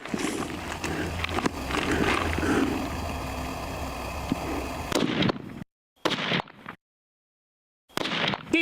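Gun rounds go off as loud, sharp blasts with short echoing tails, first packed close together and then a few separate reports divided by silent gaps.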